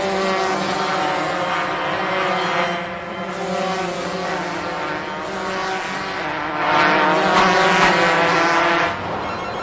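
Go-kart race engines in a cartoon race, a sustained loud buzzing drone of several small motors that swells and fades as the karts pass, with no voices over it.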